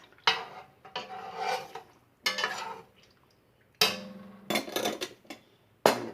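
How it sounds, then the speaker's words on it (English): A spoon stirs Chicago-style Italian beef in a pot, giving four or five separate bursts of clanking, scraping strokes against the metal with quiet pauses between them, close and fairly loud. "Let me give this a little stir."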